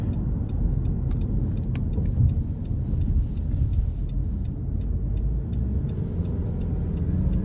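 A 2021 Nissan Rogue Sport SV cruising at about 1800 RPM gives a steady low cabin rumble of engine and road noise, fairly quiet and continuous with a few faint clicks.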